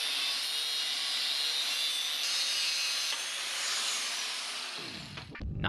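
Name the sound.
cutting off a cap to slice the piece in two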